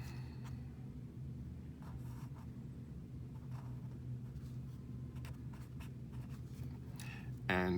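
A pen scratches steadily across paper while a math formula for integration by parts is written out by hand, faint and continuous over a low background hum, with a louder scrape at the end.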